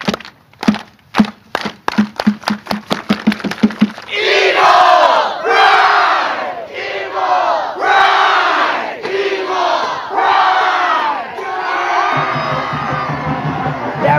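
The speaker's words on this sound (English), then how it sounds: "Everybody here, a slow clap." A crowd at a football celebration does a slow clap: sharp, evenly spaced claps that speed up and then break into loud, rolling cheers and shouts, with a final sustained roar.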